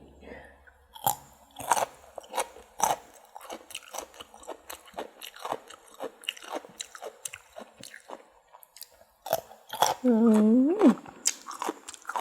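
Crisp crunches of fresh carrot being chewed alongside spicy Thai cucumber salad with fermented fish sauce, a string of close, sharp bites at an irregular pace, briefly broken near the end by a spoken voice.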